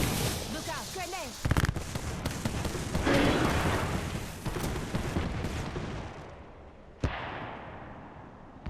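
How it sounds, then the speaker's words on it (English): Grenade blasts and gunfire in the battle royale shooter Apex Legends, sharp explosive cracks and bursts amid rattling shots, with a loud hit early, a rumbling stretch, then another sudden blast near the end. "Look out, grenade"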